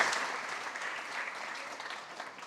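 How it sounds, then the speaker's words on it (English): An audience at a startup pitch event claps in a dense, sustained round of applause that slowly tapers, with a faint voice underneath. "Big round of applause"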